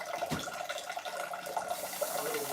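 Tap water runs steadily into a distiller being filled, a continuous close splashing stream with slight shifts in pitch as the vessel fills, and no talking.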